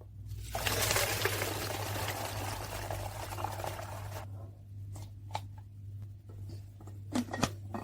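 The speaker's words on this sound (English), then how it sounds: "I'm going to pour it through a funnel." Fermented goji berry tepache poured through a funnel, a steady close splashing stream for about four seconds, then quieter dribbles and a few small clinks.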